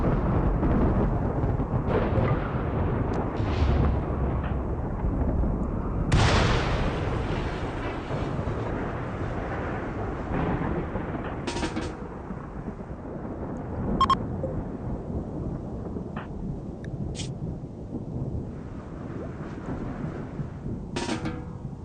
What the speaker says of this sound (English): The last thundercrack echoes off the mountain walls